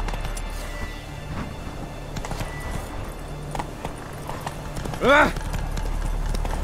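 Roach, a horse in the video game The Witcher 3, clip-clops along on steady hooves with a low ambient bed, while a voice gives a brief exclamation and a short rising cry cuts in near the end.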